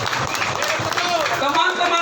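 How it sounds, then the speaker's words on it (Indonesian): A crowd at a solidarity rally claps and applauds, a busy wash of clapping with voices mixed in, steady and fairly loud. "Tepuk tangan dulu buat Ketum"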